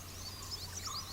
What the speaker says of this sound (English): Plates attract only a few species of birds, mainly babblers, flycatchers, bulbuls and warblers.